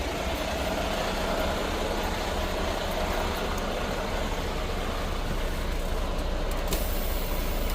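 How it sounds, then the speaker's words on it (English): Idling truck engine with steady air-brake hiss as air is sent to the trailer, a continuous low rumble and airy wash that stays loud and even, with a brief sharper release near the end. "I'm going to send some air to the trailer."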